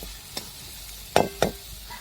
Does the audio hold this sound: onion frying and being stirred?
yes